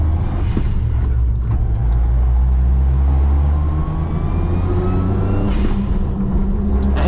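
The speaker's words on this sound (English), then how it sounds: "Sounds like the little 3-cylinder engine that it is." A 1990 Suzuki Jimny's small three-cylinder engine drones steadily from inside the cabin, a loud low thrum with slight rises in pitch as it pulls.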